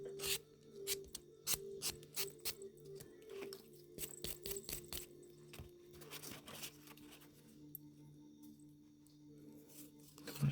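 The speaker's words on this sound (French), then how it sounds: "Toujours bien poncer la pointe pour redescendre tout ici les écailles de l'ongle qui se sont soulevées" A nail file rasps back and forth across the tip of a fingernail, making rapid, close scratchy strokes in uneven bursts with brief pauses, fairly quiet overall.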